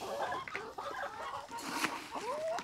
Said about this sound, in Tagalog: let's feed our chicken.